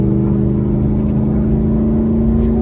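A turbocharged S550 Ford Mustang GT fitted with an S475 T6 turbo holds a loud, steady engine drone as the turbo spools, heard up close with no voices.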